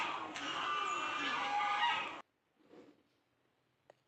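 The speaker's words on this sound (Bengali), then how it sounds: "এই দেখো বন্ধুরা, কত রাজহাঁস।" Geese calling by a river during a winter picnic outing, a loud, busy chorus of honking and cackling for about two seconds, then cutting off to quiet with a faint distant call.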